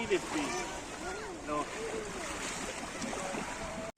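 Waves wash up on a beach in Qatar in a steady rushing surf, heard under someone talking close by throughout.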